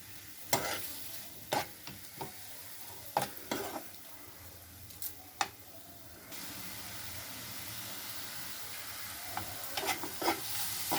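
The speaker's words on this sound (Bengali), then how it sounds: "হাই ফ্লেম করে 1 মিনিট আমি এটা নেড়ে চেড়ে নিয়েছি, হলুদের কাঁচা গন্ধটা যাওয়ার জন্য আর লঙ্কার গুঁড়োর" Turmeric, salt and chili powder masala stirred and fried on high flame for an olive and radish chutney, with sharp spoon scrapes against the pan over a steady sizzling hiss.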